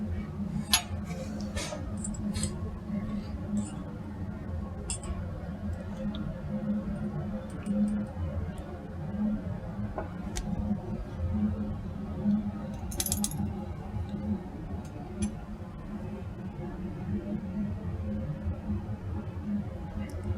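Sodium sulfate drying agent swirled in laboratory glassware, scattered light clinks and granular rattles over a steady low room hum, with speech faintly present in the background.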